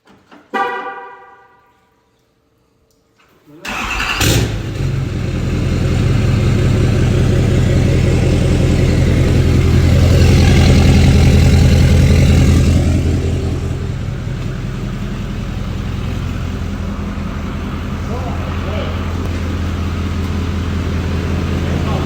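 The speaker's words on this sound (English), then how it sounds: "we got her fired up. Sounds amazing. Setting on high idle right now." A 2018 L5P Duramax diesel engine starts after a brief quiet gap and settles into a loud, steady high idle, with a deep continuous rumble that holds evenly and eases slightly toward the end.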